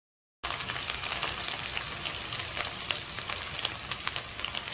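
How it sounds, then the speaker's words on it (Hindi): Onions frying in a pan until light brown for aloo ki katliyan, a steady close crackling sizzle that runs unbroken throughout after a brief silent start, with no talk. "प्याज को डालने के बाद हम प्याज को इसमें लाइट ब्राउन करेंगे।"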